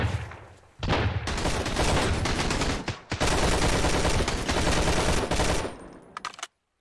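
Automatic weapon fire in Sunkenland rattles in two long, dense, sustained bursts separated by a brief pause, loud and close, ending with a few scattered shots.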